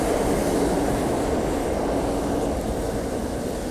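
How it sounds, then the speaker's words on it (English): A diesel commuter rail train on the purple line rolls past with a loud, continuous rumble and rattle of cars and wheels that holds steady across the whole stretch, with no voices over it. "That is the commuter train. The diesel, purple line, the commuter rail."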